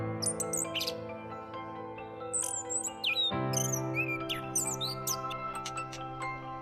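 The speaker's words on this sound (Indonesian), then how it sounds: "anis kembang mendongakkan kepalanya ke atas dan berkicau tanpa henti" An orange-headed thrush sings rapid chirps and whistled phrases in repeated bursts over a steady low-pitched tonal hum.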